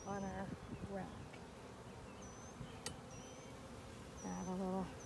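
Honey bees buzz steadily around an open hive during an inspection, a close, continuous drone with brief louder swells at the start and end.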